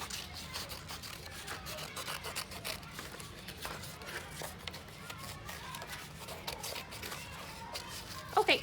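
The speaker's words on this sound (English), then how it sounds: "Go in with my scissors into the little hole and cut out all the sides here." Scissors cutting out paper windows and doors, a run of quick, quiet snipping and rustling cuts repeated close by, with a voice talking faintly over part of it.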